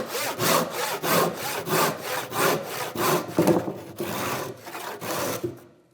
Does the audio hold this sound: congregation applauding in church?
no